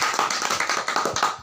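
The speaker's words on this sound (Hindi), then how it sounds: "तालियां बजाओ ऐसे।" Rhythmic clapping from an audience at a business meeting, about a dozen evenly spaced claps in a steady beat over a second and a half, fairly close and moderately loud with no voices over it.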